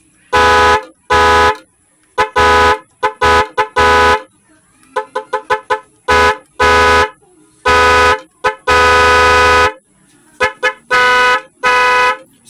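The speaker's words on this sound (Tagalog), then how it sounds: "gumagana na yung ating busena na 22 sounds" A 22-sound magic horn fitted to a motorcycle blares loudly through a rapid series of tones: long held blasts, quick stuttering toots and changing melodic patterns separated by short silences.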